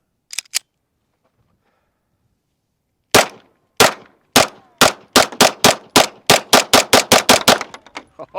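A MAC9 DS Comp pistol fires outdoors: two quick opening shots, a pause, then a rapid string of about fifteen loud, sharp reports speeding up toward the end, close by with no talk.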